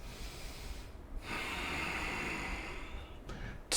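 Deep breathing during a slow-flow vinyasa yoga backbend: one long, airy inhale swelling up close and steady, followed by a brief pause and the start of another breath.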